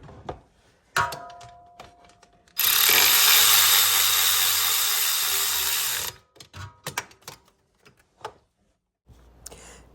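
A power tool runs in a loud continuous whir for a few seconds while driving stator cover bolts on a 2008 Honda TRX500FM, framed by close clicks and clinks of tools and parts.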